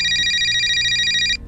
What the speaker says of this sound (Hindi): एसपी साहब का कॉल आया